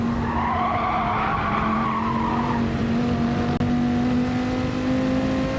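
A race car in a CRT championship round skids with a sustained tire squeal under hard braking, the engine droning steadily close by, with a long squealing sweep early that tapers into continuous tire and engine noise.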